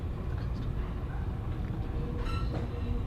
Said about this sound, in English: the faint whistle of a train nearing